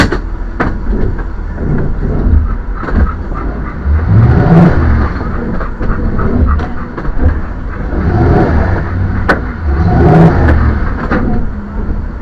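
An RV engine revs hard as a tire spins, stuck at a campsite, with loud, sustained surging engine roar in repeated waves rising and falling close by.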